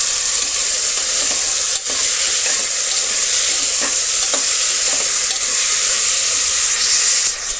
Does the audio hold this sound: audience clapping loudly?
no